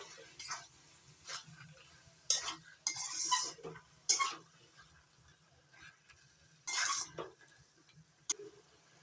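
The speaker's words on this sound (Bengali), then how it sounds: "জিরে ধনে আর শুকনো লঙ্কা গুঁড়ো করে রেখেছিলাম সেটা দিয়ে দিলাম এবার নাড়াচাড়া করে মিশিয়ে নিচ্ছি" A utensil scrapes and clinks against a pan while ground cumin, coriander and dried chilli are stirred into fried water lily stems, giving scattered bright metallic scrapes in irregular bursts over a quiet background.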